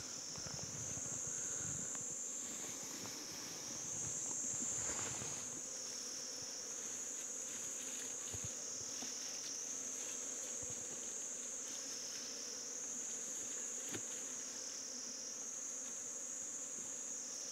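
Honeybees around a hive being smoked produce a continuous high-pitched buzzing drone that rises and falls slightly in waves, steady and close, with no voices.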